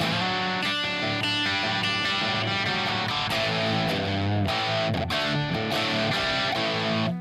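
Electric guitar playing chords and riffs through a Klon overdrive pedal on the clean channel, a mildly overdriven tone, steady and moderately loud with no talking.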